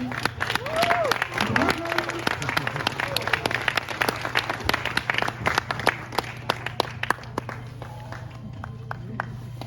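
Audience applause after award winners are announced at a sports centre qualifying event in Montreal, crisp individual claps in an uneven burst that thins out toward the end, with voices and a few shouts mixed in over a steady hum.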